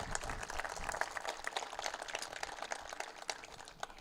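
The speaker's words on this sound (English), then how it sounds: "I think they deserve a huge round of applause" Audience applause for school staff at an elementary school ribbon cutting, a dense steady patter of many hands clapping at moderate volume throughout, with no speech.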